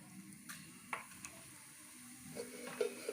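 Mustard seeds and cumin sizzle softly in hot oil, a faint steady hiss broken by a few light pops and a quiet utensil tap.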